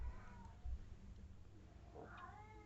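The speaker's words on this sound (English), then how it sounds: "If you hear my cat, he is mourning the absence of my husband." A pet cat meowing and crying, with drawn-out plaintive calls heard faintly at a distance over a low background hum.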